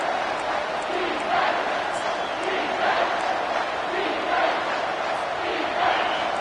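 Stadium crowd noise in a college football video game, a dense sustained roar of many voices rising and swelling on a third-down play, loud and continuous throughout.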